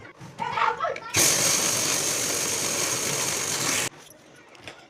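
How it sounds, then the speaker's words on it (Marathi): A mixer grinder whirs loudly as it grinds roasted ingredients into protein powder, a harsh, steady roar that starts abruptly, runs for about three seconds and cuts off sharply, with quieter handling sounds before and after. "हे सर्व भाजल्यानंतर थंड करून मिक्सरला एकत्र वाटून घेऊ."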